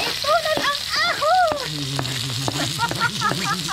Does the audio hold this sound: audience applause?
no